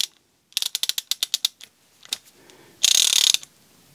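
A VANPO 1/2-inch torque wrench rated 25-165 ft-lbs ratchets with a quick run of sharp, close clicks. A few scattered clicks follow, then a short loud burst of clatter.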